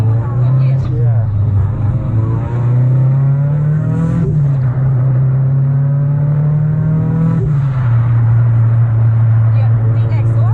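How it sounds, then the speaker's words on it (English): A circuit-built Mitsubishi Lancer Evolution 6 race car idles loud and close with a turbo and aftermarket exhaust, its deep steady drone rising in brief blips of revving while people talk over it. "the exhaust has a really nice tone"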